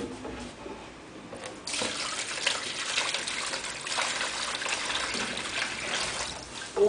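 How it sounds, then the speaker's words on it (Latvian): Water is poured into a container during a school class activity, making a steady splashing trickle that grows fuller partway through and continues without talk. "Tagad mēs ieliesim ūdeni."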